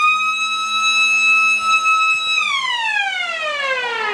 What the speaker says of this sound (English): And the siren sounds.